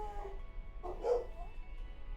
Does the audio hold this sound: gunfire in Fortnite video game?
no